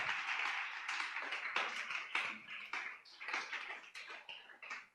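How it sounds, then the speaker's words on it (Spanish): A church congregation claps with brisk, enthusiastic applause on a cold day, a dense patter of many hands that swells and dips. It sounds fairly distant and soft. "démosle un aplauso con más gozo para que también nos calentemos un poquito"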